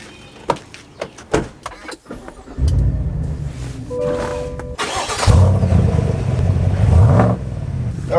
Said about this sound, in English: driving the ZR2 with the leveling kit